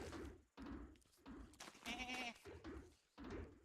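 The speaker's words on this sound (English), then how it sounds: "Granny Wanda versus the Volt Goats." Volt Goats bleat in the survival game Don't Starve Together, a wavering harmonic cry near the middle, with loud game sounds and thumps around it.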